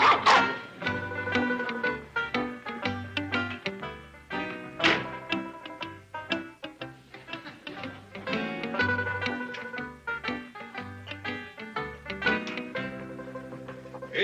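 A small dog barks repeatedly, shrill and close, in a lively rhythm over a bed of upbeat comedic music playing throughout.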